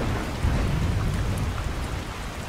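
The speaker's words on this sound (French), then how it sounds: "Ça suffit, je vous dis qu'il pleut, je le sens." Heavy rain pours down steadily with a deep rumble of thunder mixed into the dense, loud downpour, continuous and with no voices.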